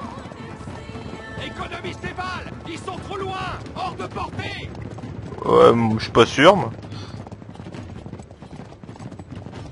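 Horses clip-clopping at a gallop in the Uncharted video game, steady hoofbeats under ongoing French conversation, with a louder snorting or whinny burst midway.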